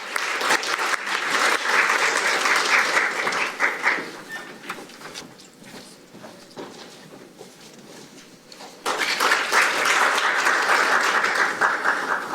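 Applause from the audience at a national maritime talent strategy ceremony and forum at the National Assembly, sustained and loud, dipping in the middle before swelling again near the end.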